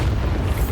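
A Bombarda spell explosion in Hogwarts Legacy gives a short, heavy, low rumbling boom. It stays loud and steady through its brief length, with no voices over it.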